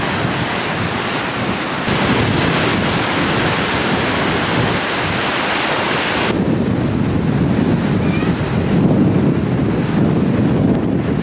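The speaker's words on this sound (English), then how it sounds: "Got a little bit splashed, crazy waves, don't want to get my camera wet." Rough sea waves crash onto the shore at St. Mildred's Bay on the Kent coast, a loud, continuous roar of surf mixed with heavy wind buffeting the microphone, with no voices.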